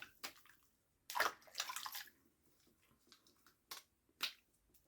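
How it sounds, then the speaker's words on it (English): Water splashes as a face is rinsed after a shave, faint sloshing bursts and splashes at close range in an irregular rhythm, with quiet gaps between them and no talk. "So I'm going to rinse off here."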